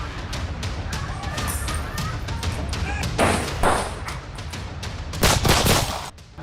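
Gunfire during unrest with stone-throwing in Saraiya market, Gorakhpur: a dense series of sharp cracks and thuds over a noisy crowd, with people shouting throughout.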